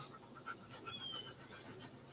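A happy puppy pants softly in quick, rhythmic breaths outdoors near a stadium, faint and close with light background noise.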